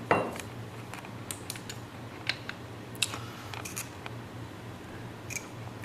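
An AST steel bolt carrier is locked to the rear and its bolt lock pressed, making several sharp, close metallic clicks and snaps scattered over a quiet background.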